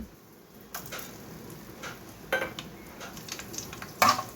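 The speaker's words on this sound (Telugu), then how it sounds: "ఇందులో పోపులు వెల్లుల్లి ఎండుమిర్చి కరివేపాకు కొంచెం మెంతులు ఇవన్నీ వేసుకుందాము" Soft sizzling of garlic, dried red chilies, curry leaves and fenugreek seeds tempering in hot oil for Andhra pappu charu, with a few sharp clinks and stirring knocks of a utensil against a pan.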